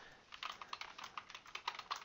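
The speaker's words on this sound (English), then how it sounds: "I get to type this in." Rapid, even keystrokes on a computer keyboard clatter in a quick steady rhythm, soft and close, with no voices.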